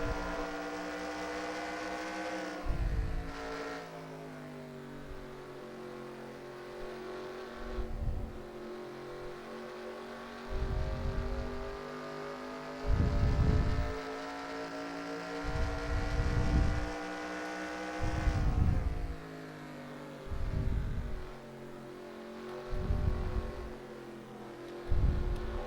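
A race truck engine roars on board during a lap of the Milwaukee Mile oval, loud and close, with repeated rising revs and lifts as it works through the corners.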